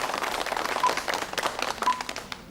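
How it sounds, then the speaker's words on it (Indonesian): Audience at a Kulon Progo regency head candidates' public debate applauding supporters of candidate number 1, a steady dense patter of many hands clapping throughout, moderately distant in a hall. "silakan tepuk tangan bagi para pendukung"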